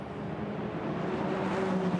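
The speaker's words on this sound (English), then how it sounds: "And as the cars roar away then" Ferrari Challenge race cars pull away from the start at Jerez, their engines a dense, steady roar with rising tonal whine heard from a distance and no talk over it.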